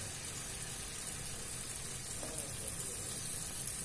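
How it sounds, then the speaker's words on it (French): A glass of water is poured into a hot carrot tajine with olives and preserved lemon, producing a steady close sizzle and bubbling with no break across the few seconds. "Et je vais venir mettre un verre d'eau."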